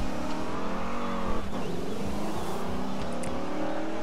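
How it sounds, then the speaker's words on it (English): Racing car engine revving and shifting pitch in the video game Grid 2 while drifting, with tires squealing briefly mid-slide; loud and continuous with no voices. "我嘗試用 handbrake 去飄。"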